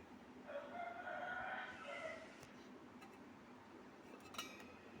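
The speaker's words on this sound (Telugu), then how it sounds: "పక్కన కోళ్ళు ఎక్కువ అయిపోయినాయి" A rooster crows once, faint and distant, from among many chickens nearby. A quiet room murmur and a few light clinks of kitchenware sound around it.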